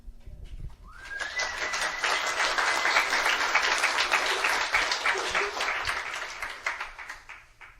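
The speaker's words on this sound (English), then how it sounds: "I hope you know you are applauding yourselves" Audience at a talk breaking into sustained applause, a dense wash of clapping that swells quickly, holds steady for several seconds and then tapers off.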